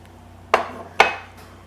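Two sharp, separate clinks of a utensil against an oven dish, about half a second apart, while thawed garlic is mixed into meal ingredients in a quiet kitchen.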